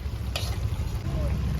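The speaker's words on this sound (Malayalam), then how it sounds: "അപ്പോൾ നമ്മളിനി ഒന്ന് ഇളക്കി കൊടുക്കുകയാണ്." Lemon pickle being stirred in a pan of hot oil, a soft continuous scraping and sizzle with one brief sharp clink near the start.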